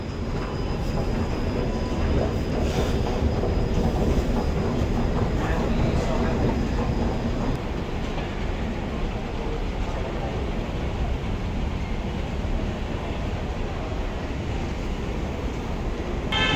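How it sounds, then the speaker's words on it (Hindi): A Delhi Metro Magenta Line train arriving at a station rumbles steadily and loudly through the whole stretch, a continuous roar of wheels and motors with a faint high whine on top. "यहाँ पर मेरी मेट्रो आएगी।"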